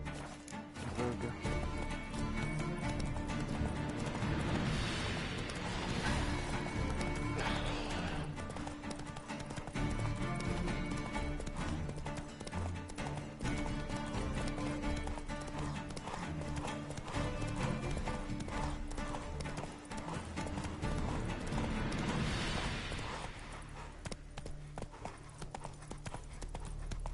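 Roach the horse gallops in The Witcher 3, hooves pounding in a steady fast clip-clop that runs the whole way over a dense, loud game soundtrack and ambience.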